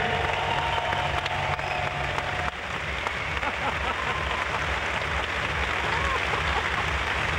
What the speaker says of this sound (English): give a big round of applause for the rest of our contestants for International Leather 2001